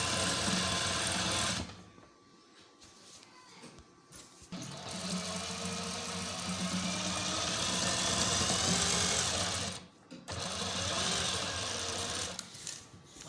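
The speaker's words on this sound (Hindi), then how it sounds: "इसी लेस के ऊपर ऊपर सिलाई लगा देनी है क्योंकि धागा इसी के जैसा है" Sewing machine stitching along a lace border with matching thread at a tailoring institute, a steady close whirring run broken by two short pauses, with no voices.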